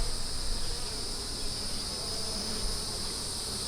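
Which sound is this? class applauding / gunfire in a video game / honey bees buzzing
honey bees buzzing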